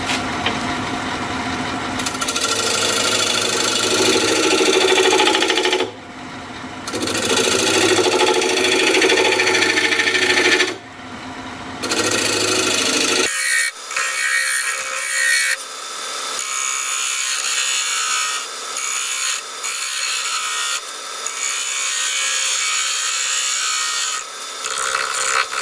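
A white oak bowl being turned on a wood lathe, the tool cutting steadily with a rough, sustained scraping rasp, broken by brief pauses, then a thinner, quieter hiss after the spindle note drops away.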